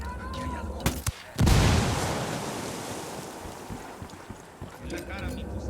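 A frag grenade detonating during a raid on a cocaine stash in Ghost Recon Wildlands, a sharp loud blast followed by a long rolling roar that slowly fades, with brief game sounds just before it.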